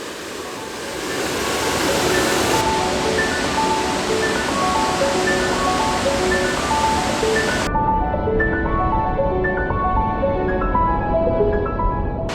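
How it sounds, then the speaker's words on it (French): Saut du Doubs waterfall on the Doubs river roaring steadily as a loud, constant broadband rush, with music playing over it and no voices. "Regardez cette puissance, regardez cette cascade."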